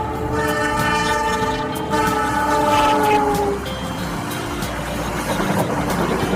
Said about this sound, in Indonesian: penggunaan klakson tipe Nathan P2 Airhorn yang mengeluarkan suara yang khas